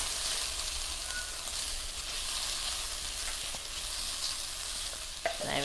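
Onions frying steadily in a hot pan, a continuous close sizzle and crackle with a few louder pops near the end, no talking.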